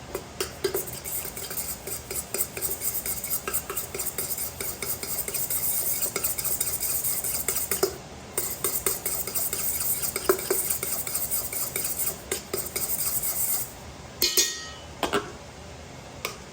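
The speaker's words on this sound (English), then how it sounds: "I'm gonna mix a little bit of beetroot powder. Gonna mix that up." Beetroot powder being stirred into flour for ravioli dough, steady rapid scraping and ticking of a utensil against a bowl for a long stretch, close and moderately loud, with a brief pause partway through and no talk.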